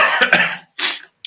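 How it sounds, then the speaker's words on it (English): A person with a lingering cold gives two quick, close coughs, then a short throat-clearing rasp. "Sorry if I cough, it's because I'm still getting over"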